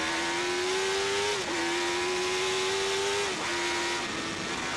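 Racing motorcycles scream past at the 2001 Cookstown 100 road race, a loud high-pitched engine wail that dips twice as bikes shift or pass, dense and continuous with no talk.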